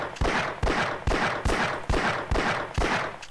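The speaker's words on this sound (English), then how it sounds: "this here is your normal volcanic fanning" Volcanic pistol fired by fanning in a video game, eight sharp loud shots in quick even succession, each cracking report trailing into a short echo.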